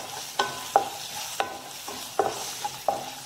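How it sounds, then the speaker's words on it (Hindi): Green chillies frying with salt and turmeric in a pan: a soft background sizzle punctuated by about seven distinct metallic spoon taps and scrapes at irregular intervals, close and clear, without speech. "अब हम नमक के साथ इसे हल्का सा भून लेंगे।"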